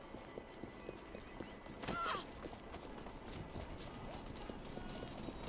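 A horse gallops through the streets of Victorian London in Assassin's Creed Syndicate, steady hoofbeats clopping at a quick rhythm with a brief louder burst partway through, under ongoing game ambience.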